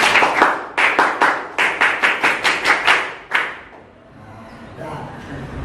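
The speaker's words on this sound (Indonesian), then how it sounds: "untuk menarik semangat kita lakukan tepuk" A class of Indonesian students claps in a rhythmic counting pattern, giving sharp groups of claps in a steady sequence and then falling quiet except for faint room noise.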